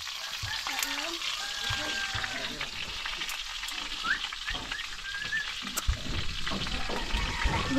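Food frying in hot oil sizzles steadily throughout, loud and close, with brief stirring clatter and faint birdsong outdoors in the background.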